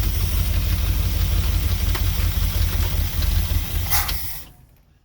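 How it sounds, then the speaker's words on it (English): A Mopar 440 V8 pulled from an old motorhome runs steadily with a low, even rumble and hiss, then shuts off and fades to quiet near the end. "one more time for posterity here, just for shits and giggles. Smooth, run smooth."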